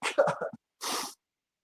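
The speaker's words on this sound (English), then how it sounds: "I got to sneeze." A single loud, close sneeze: a sharp wind-up intake and burst, followed after a short gap by a breathy second exhale, with no talking.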